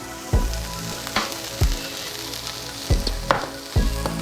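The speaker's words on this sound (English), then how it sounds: "my onions are starting to get a little color to it" Onions sauté in a pan with a steady close sizzle, broken by several sharp knocks and scrapes of a utensil against the pan; no one speaks.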